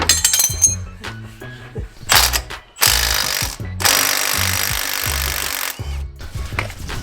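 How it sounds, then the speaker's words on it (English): A power impact tool rattles in several bursts as bolts come off the suspension of a 2019 Jeep during a lift kit install, loud and close, with clinks of metal parts between the bursts. "these bolts come undone so nicely"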